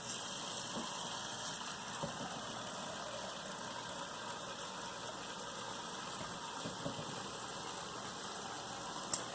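Water with ginger bubbles at a steady rolling boil, a continuous low burbling hiss with occasional small pops, close by and without voices.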